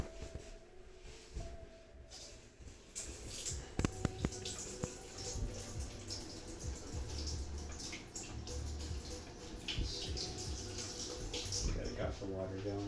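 Tap water runs steadily into a bowl as rice is rinsed in a kitchen, a continuous splashing hiss with small clinks and drips, under a voice speaking.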